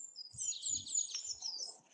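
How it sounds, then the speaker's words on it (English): Birdsong outdoors on a Saturday morning dog walk: a steady run of bright, close chirps and trills fills the whole stretch, with a few soft low thumps underneath. "listening to birdsong like that"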